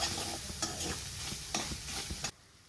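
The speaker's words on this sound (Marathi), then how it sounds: "सगळे मसाले छान असं तळले गेलेले आहेत तेलात" Spices and finely chopped tomato frying in oil in a pan for a dry vajdi dish, with a close sizzle and several rhythmic scraping stirs, then an abrupt drop to quiet near the end.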